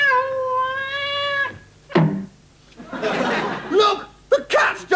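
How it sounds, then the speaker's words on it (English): A cat meows in a long, drawn-out harmonic cry, close and loud, followed by voices and laughter in a comedy sketch. "The cat's just choked itself to death on them!"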